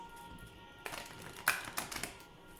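Oracle cards are shuffled close by, quiet papery riffles and soft taps coming in several short bursts, alone without talking.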